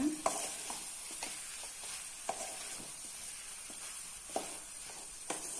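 Cooked rice being stirred into vegetables in a pan, a soft steady hiss with scattered scraping knocks of a spoon against the pan at irregular intervals, close and fairly quiet, no voices.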